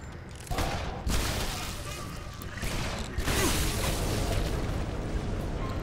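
Enemies blow up amid gunfire in the Shadow Warrior shooter game, a dense run of booms and bursts over a steady bed of game noise, with a voice talking now and then.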